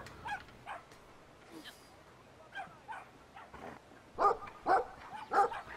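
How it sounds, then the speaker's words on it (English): A big dog barks in the video game Brothers: A Tale of Two Sons, sending out a series of yips and whimpering barks that grow louder toward the end, with someone talking around them. "That's a big, weird puppy."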